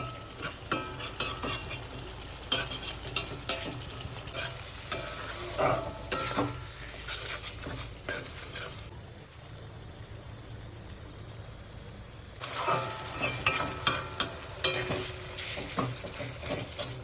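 Spice paste sizzles in a pan for black pepper chicken while a spoon stirs and scrapes, with clinks against the metal. The frying sounds close and comes in uneven bursts, and a quieter stretch follows partway through, with no voices.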